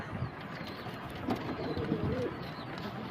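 Soft, low cooing of pigeons, including racing pigeons with chicks and eggs, a few rolling calls close by over a constant background hum.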